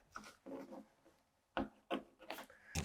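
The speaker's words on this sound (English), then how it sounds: "I'm using a slotted screwdriver." A slotted screwdriver scraping and rubbing at the surface of an old painted portrait during conservation, with several short close scratchy strokes separated by quiet gaps and no talk.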